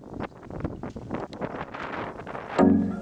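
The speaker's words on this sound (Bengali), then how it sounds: "এইরকম বাতাসের মধ্যে" Strong wind gusts buffet the microphone outdoors at Hatta Hill Park in Dubai, giving close rumbling blasts that rise and fall, with a brief tonal hum near the end.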